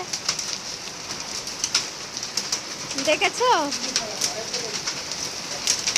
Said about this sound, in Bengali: এখানে কলকাতাতে বৃষ্টি হচ্ছে, শিলাবৃষ্টি, দেখছো কত সিল পড়ছে